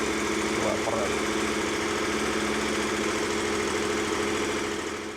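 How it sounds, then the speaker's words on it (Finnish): KTM motorcycle engine idling to warm the oil, a close, steady, rhythmic mechanical thrum with a slight fade at the end. "vähän aikaa moottoria käyttää, että öljyt lämpenee"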